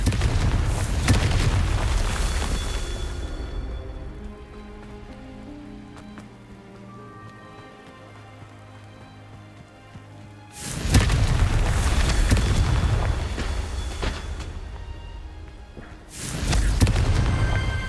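Confringo fire spells from the Hogwarts Legacy video game burst in two loud, booming explosions that crackle and rumble, with a quieter stretch of game music between them.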